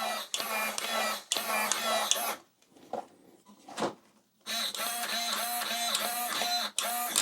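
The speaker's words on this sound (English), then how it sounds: "let's see what the stock steering servo is like" Stock 25 kg steering servo on a Cross RC EMO JT4 RC truck whines in several bursts, a buzzy, pitch-stepping electric motor sound, loud and close, separated by brief quiet gaps with small clicks.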